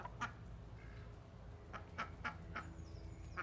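Small flock of six ducks at an urban farm sanctuary in Renens, giving a run of short nasal quacks, some in quick pairs, fairly close over a low steady outdoor rumble with no talking.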